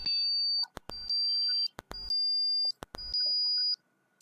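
Computer beep tones generated by a Python script using the winsound module: four steady, loud electronic beeps of about a second each, separated by short clicks and brief gaps.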